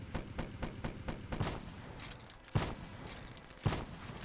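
Gunfire in Call of Duty: Black Ops 3, with a rapid run of shots followed by three heavier, spaced shotgun blasts. The shots sound fairly faint and distant, with no talk over them.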